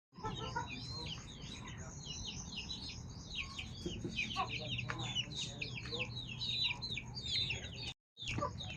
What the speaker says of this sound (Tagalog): ito yung una naming manok guys, yung dalawa